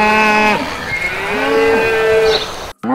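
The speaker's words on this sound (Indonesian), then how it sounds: "Wow, ini sapi berwarna pink teman-teman." A pink toy cow gives a loud electronic moo sound effect, one long close bellow with a falling then rising pitch that ends abruptly with a click.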